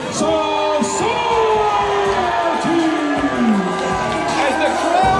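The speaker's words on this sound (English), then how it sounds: "As the crowd roars" A wrestling arena crowd roars and cheers at a tag team match, a loud sustained wash of yells and whoops, with a commentator's voice running over it throughout.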